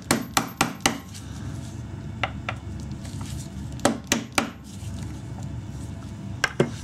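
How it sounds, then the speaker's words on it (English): Sharp metallic taps from a small socket driving a part of an SU HIF4 carburettor from a late MGB into place, about ten close, separate knocks in short clusters over a low steady hum. "What you could do is you could use a little socket and just tap it down home."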